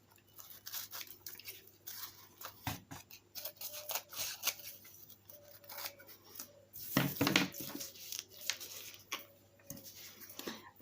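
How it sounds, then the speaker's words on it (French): Scissors cut through melted plastic fused around an image on felt, giving a run of small close snips and crisp crunches with no speech. "donc je vais couper un peu le plastique autour"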